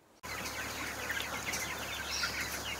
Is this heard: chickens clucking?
yes